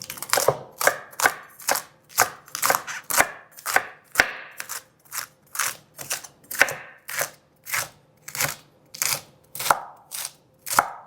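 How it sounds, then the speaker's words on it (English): Knife chopping purple cabbage for a salad on a cutting board, about twenty crisp, crunchy strokes in a steady rhythm, close and loud with no talk. "So I'm getting ready to chop it up."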